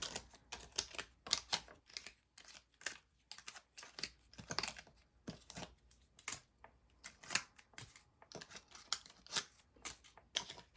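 Tarot cards shuffled by hand, a steady run of quick, soft flicks and taps close by, bunched in short bursts with small pauses, no voices.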